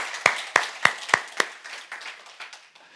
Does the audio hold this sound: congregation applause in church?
yes